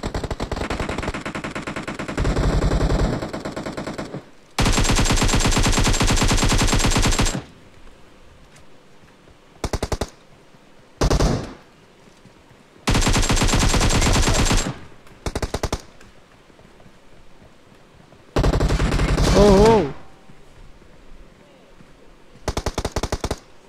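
Video game gunfire rattles in repeated loud automatic bursts, several seconds long, separated by short gaps and single quick shots, with no talking in the clip.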